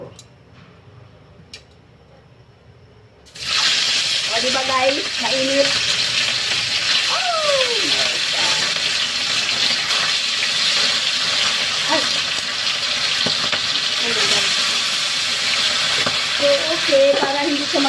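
Oil hisses and sizzles loudly and continuously as fish for escabeche starts frying, with occasional small pops and scrapes over the steady frying.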